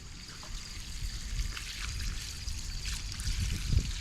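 Water dumped out of a plastic jug used as a target for 9mm hollow-point tests outdoors, heard as a steady low trickling and splashing that runs throughout with a slight surge near the end.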